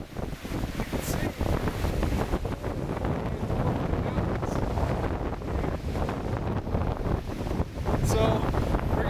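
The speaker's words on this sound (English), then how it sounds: "It's about 50 degrees, like 40 mile-an-hour winds." Strong gusty wind, about 40 mph, roars across the mountain glacial lake in the Beartooth Mountains, buffeting the microphone in a loud, continuous rumble with faint lapping water.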